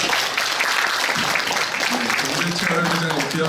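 An audience applauds after a speech at a Korean cultural gathering, with steady dense clapping filling the moment and a voice talking over it.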